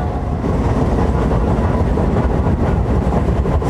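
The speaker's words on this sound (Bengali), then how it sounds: "কারণ ট্রেন এখন ঘোড়ার বেগে ছুটছে।" Sealdah–Kalyani Simanta local train running at speed, a loud, dense continuous rumble of wheels and carriage noise close by, with faint rhythmic clatter and no speech.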